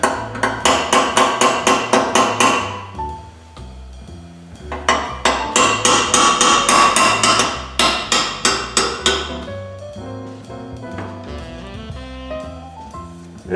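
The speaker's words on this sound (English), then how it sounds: "I say it's a body shop hammer with the pick." A body shop hammer with a pick taps rapidly on a metal weld, bursts of bright ringing strikes in quick even rhythm, loud and close, with short pauses between runs and a fading ring at the end.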